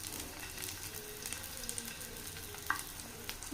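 Chopped onion and garlic frying in hot oil give a soft, continuous hiss with faint crackles, fairly quiet and close, with no voices.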